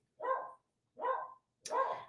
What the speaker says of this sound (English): My dog literally barks at nothing.